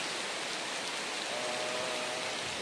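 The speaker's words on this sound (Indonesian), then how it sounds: "Hujan lebat baru saja turun di wilayah Demak" Heavy afternoon rain with fairly strong wind at a workplace in Demak, a steady dense broadband hiss that holds unbroken and loud throughout, with a faint tonal whine drifting in partway.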